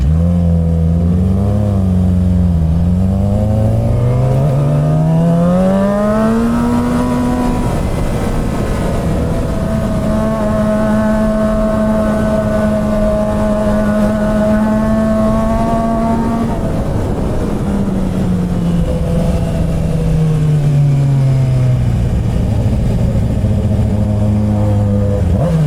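A Suzuki GSX-R 600 sport motorcycle, ridden through city streets, rises and falls through the gears with a loud continuous engine whine, holding a steady high pitch mid-ride before dropping back as it slows.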